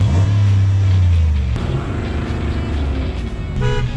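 Full-size pickup trucks launch in four-wheel drive at the start of a drag race, a loud engine roar and rising revs close by, with a horn-like tone mixed into the sustained drone.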